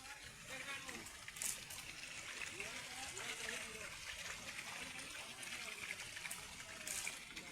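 A hillside waterfall pours in a steady broadband rush that stays even throughout, with voices talking faintly underneath the flowing water.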